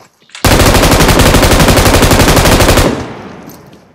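Rapid automatic gunfire from a video game rattles out in one loud sustained burst of a couple of seconds, then trails off into a fading echo.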